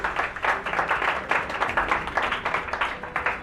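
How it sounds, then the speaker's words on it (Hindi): An audience claps to welcome a student at an event, a dense, continuous patter of many hands that stays fairly loud throughout with no voices. "तो एक बार जोरदार तालियों से स्वागत करते हैं हमारे ब्रिलियंट स्टूडेंट का"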